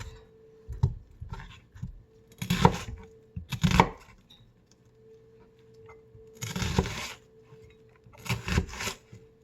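A knife cuts through an onion in irregular bursts of slicing and board taps, close up with quiet pauses between strokes.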